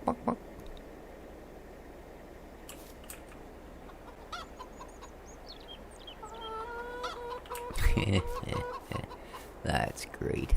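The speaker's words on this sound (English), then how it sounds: "So many chickens." Chickens in the Farming Simulator 22 video game cluck in scattered bursts over a soft ambient bed, growing busier and louder toward the end, with a player's voice talking over them.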